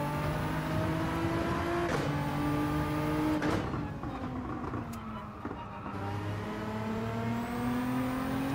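A Nissan race car in Gran Turismo revs hard around Watkins Glen, its engine note climbing through the gears with brief breaks at each shift, then pulling up again loud and close.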